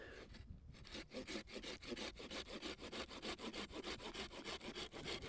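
A Nordic Pocket Saw Skalvik folding saw with a Swedish-quality blade cuts through a thicker section of dry wood, making steady, rhythmic rasping back-and-forth strokes, close and continuous, with no talking.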